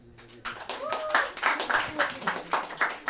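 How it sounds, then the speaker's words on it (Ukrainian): Scattered hand clapping from a stand-up comedy audience, a thin uneven patter of claps rising and falling over a few seconds, with brief voices near the start. "Ці сумні травмовані оплески."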